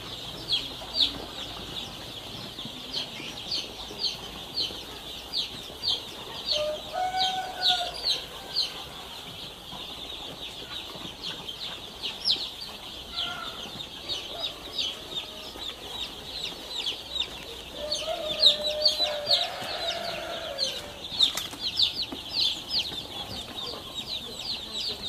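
Young two-day-old chicks in a brooder pen give a steady chorus of high peeps and cheeps, continuous and moderately close, with a few lower clucks rising briefly in the middle.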